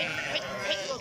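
Sheep bleat faintly in a couple of short calls, distant and low against a soft background hum.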